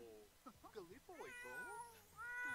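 Cats in The Sims 4 meow repeatedly in a busy, overlapping run of rising and falling calls, with a person talking over them throughout.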